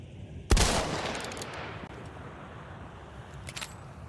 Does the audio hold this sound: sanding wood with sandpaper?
no